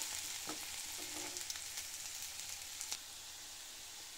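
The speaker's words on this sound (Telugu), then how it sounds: "కొత్తిమీర, పుదీనా అవి కూడా లైట్గా ఫ్రై అయ్యే వరకు ఫ్రై చేసుకోవాలన్నమాట" Vegetables with coriander and mint fry for vegetable fried rice over a medium-low flame. A soft, steady sizzle runs throughout, with a few faint stirring clicks early on.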